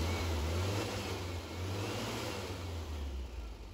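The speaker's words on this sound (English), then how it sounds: "rev the engine up and see where the total advance stops" Air-cooled VW Beetle engine revving up close during ignition timing, a strong steady mid-range engine roar with a low throbbing hum that eases slightly toward the end.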